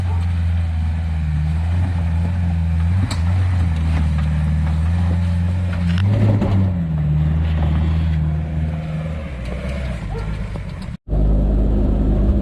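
Small off-road 4x4 such as a Suzuki Sidekick, X-90 or Geo Tracker climbing the Hogs Back trail, its engine droning low and steady throughout with rough mechanical rumble and a brief dropout near the end.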